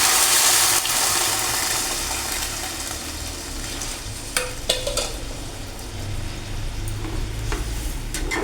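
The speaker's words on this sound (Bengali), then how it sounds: "এবার দিয়ে দেবো পরিমাণ মতো জল।" Water is poured into a pan of hilsa fish and taro curry. There is a loud hiss and sizzle at first, then continuous bubbling and scraping stirs, with a few sharp clinks near the middle.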